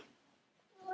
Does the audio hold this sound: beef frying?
no